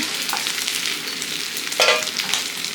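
Fish and then potatoes fry in hot oil, with a steady, dense sizzle running throughout and a brief louder crackle near the end as food stirs in the pan.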